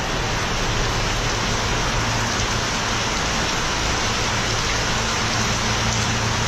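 Steady heavy rain pours down continuously, a dense even hiss with no pauses and no voices.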